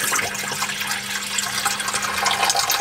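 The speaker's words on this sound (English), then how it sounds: "So just turn on a tap, hot or cold," Water gushes steadily from a tap aboard a sailing boat as the pressure in the water accumulator drains, a broad continuous rushing and splashing that stays close and fairly loud throughout.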